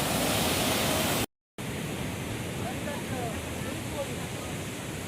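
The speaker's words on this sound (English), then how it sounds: "Nice waterfall." Kaigal Falls waterfall pours in a steady, loud broadband rush of flowing water that fills the scene, broken only by a brief moment of silence near the start.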